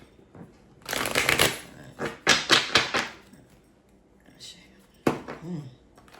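Tarot cards are riffle-shuffled in close, crisp bursts, with a short pause between them and a brief voice near the end.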